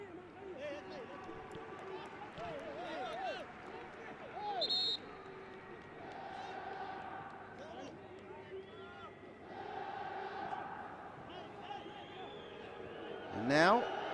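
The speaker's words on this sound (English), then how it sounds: "And now the crowd have just dimmed somewhat, although they soon get going again when they think there's a threat from Saudi Arabia" A football stadium crowd at an AFC Champions League match between Urawa Red Diamonds and Al Hilal murmurs and chants steadily at a distance, swelling briefly into a louder roar, with a commentator talking over it.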